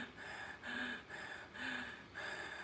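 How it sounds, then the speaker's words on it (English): Shallow chest breathing, a close, quick run of five short breaths alternating in and out in a steady rhythm, slightly gasping and audible over a quiet background with no speech. "this is what chest breathing looks like"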